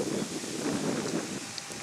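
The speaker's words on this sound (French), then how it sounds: "Mais il y a énormément de vent." Strong wind buffets the microphone beside an old Swiss army bunker at dusk, a continuous low rumbling roar with gusty swells, steady and close, with no voices.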